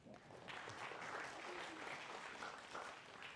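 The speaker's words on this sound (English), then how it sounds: "Give Ziv a small applaud" A small audience at a design talk about reviving Japan's abandoned akiya houses gives a brief, quiet round of applause, a soft, even patter of clapping lasting a few seconds.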